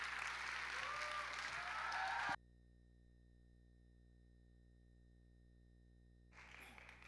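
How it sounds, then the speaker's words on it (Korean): A church youth-service congregation applauds to welcome a young woman coming forward to give her testimony. A dense burst of clapping stops abruptly into silence and returns faintly at the end. "박수로 모시겠습니다."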